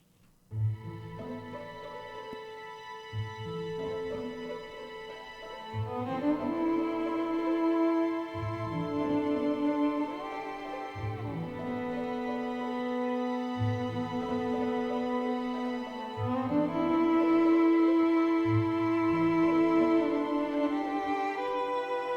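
Soft plucked string music plays a repeating pattern of notes over a steady low pulse, calm and even, with no voices.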